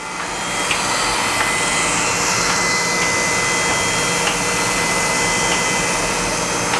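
A Shigiya-Okamoto universal cylindrical grinder with an internal ID attachment feeding inside a bore gives a loud, steady high-pitched whine and hiss, continuous and close with faint periodic ticks.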